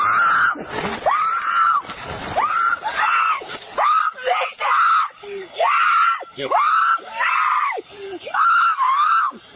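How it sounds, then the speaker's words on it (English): A woman screams and shrieks repeatedly while getting out of a car during a heated family confrontation, loud, close, in rising and falling bursts across the whole stretch. "less of a walk and more of a dramatic screaming session"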